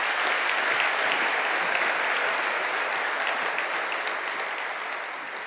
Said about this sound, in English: I think they all deserve an incredible round of applause for putting this on